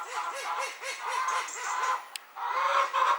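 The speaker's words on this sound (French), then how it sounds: "j'ai une petite poule qui est montée là-haut" A small hen perched up high on her roost in a backyard coop clucks in a steady, repeating rhythm, close and clear, with a brief sharp chirp partway through.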